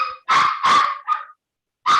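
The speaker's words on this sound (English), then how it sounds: "I think your dog disagrees with you." A dog barks close and loud in a quick burst of three or four sharp barks, then one more after a short pause.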